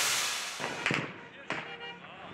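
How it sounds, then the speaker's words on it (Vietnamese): Gunshots near Kabul airport: a few sharp cracks, two distinct bursts standing out over a broad noisy background, moderately loud and somewhat distant. "Nhiều tiếng súng tiếp tục vang lên gần sân bay Kabul hôm thứ Bảy ngày 28 tháng 8"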